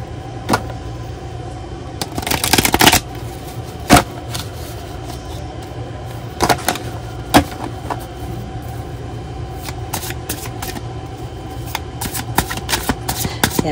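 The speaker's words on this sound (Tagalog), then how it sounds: "Balasahin muna natin." Playing cards being shuffled before a tarot-style reading, heard as several quick riffling bursts and sharp snaps over a steady low background hum, with no talk.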